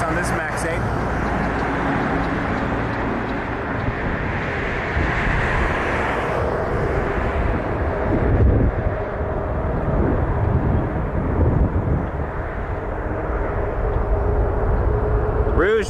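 A Boeing 737 Max 8 airliner rumbles at Toronto Pearson airport, a steady broad roar of jet engine noise at a distance with a person talking over it.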